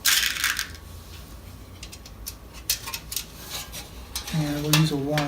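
Brass rivets being set to attach a fold plate to an armor tasset: a series of sharp metallic taps and clinks at close range, with a brief low tonal sound near the end.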